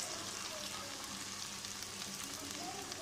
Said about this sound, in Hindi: भिंडी फ्राई हो चुकी हैं, थोड़ी देर के लिए और फ्राई करनी है।